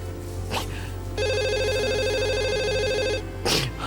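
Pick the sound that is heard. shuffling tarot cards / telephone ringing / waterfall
telephone ringing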